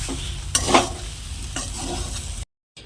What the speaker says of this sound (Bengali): মা ভাজছে এখন তারপরে জল ঢেলে দেবে এক কড়া